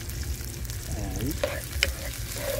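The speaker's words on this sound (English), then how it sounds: "let the onion fry." Onion frying in lard in a pot over an open fireside, a steady close sizzle with a few stirring scrapes and clinks, no talking.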